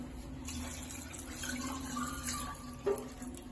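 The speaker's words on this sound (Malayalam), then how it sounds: "വെള്ളം ഇതിലേക്ക് ഒഴിക്കുക" Water poured into a heated cooking pan while making beef curry, a soft trickling pour with a small splash near the end, fairly faint and close, no speech.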